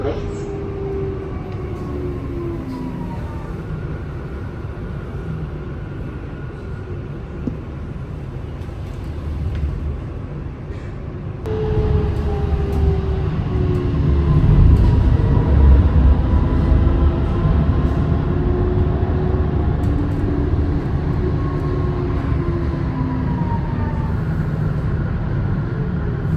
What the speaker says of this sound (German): Sie befinden sich in einem Zug der Linie U8 zur Weiterfahrt in Richtung Kinheim.